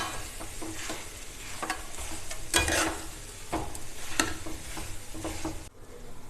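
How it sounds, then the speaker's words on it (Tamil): Mashed potato being stirred into a hot pan of veg burger patty stuffing, a soft continuous sizzle with intermittent spatula scrapes and taps, close up, ending in a brief near-silence. "எல்லாத்தையும் சேர்த்து நல்லா ஒரு வாட்டி மிக்ஸ் பண்ணி விட்டுருங்க"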